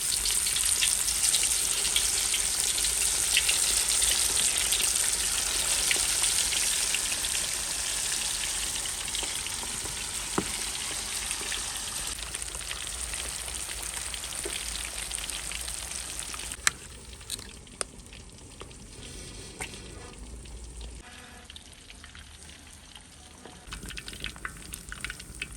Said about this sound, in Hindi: पहले हम करेंगे मछली को हाफ फ्राई